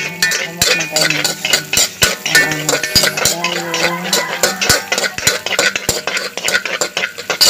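Garlic and onion sautéing in a pan for a chicken feet dish, with a utensil stirring and scraping in quick, uneven clinks and rubs close up, over a steady busy background.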